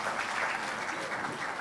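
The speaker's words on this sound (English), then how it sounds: "I think we can clap for Nigeria." An audience in a hall claps together in a short, steady burst of applause for Nigeria during a democracy anniversary speech, moderately loud and even throughout.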